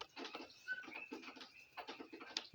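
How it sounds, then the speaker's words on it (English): Steady patter of rain falling outdoors, a soft continuous pattering with scattered drips and a few faint chirps in the background, moderately quiet and without any voices. "we need the rain. The rain's here right now."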